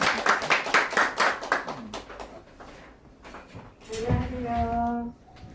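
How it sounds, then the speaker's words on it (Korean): A quick burst of rhythmic hand clapping from a small group at an academy opening ceremony fades out, then a brief voice or call sounds near the end. "박수 쳐주세요. 박수."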